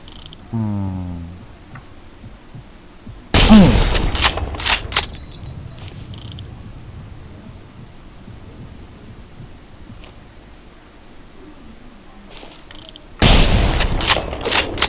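An NTW-20 anti-materiel rifle fires in the video game Phantom Forces: two loud, booming shots about ten seconds apart, each trailing off in a long echoing tail, with quieter game ambience between them.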